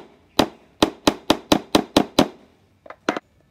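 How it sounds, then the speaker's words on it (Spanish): A small hammer taps a metal eyelet-setting tool: seven sharp, evenly spaced metallic knocks close by, then a short pause and two lighter taps. "cogemos esta herramienta, la metemos por ahí y ahora le damos con el martillito unos toquecitos"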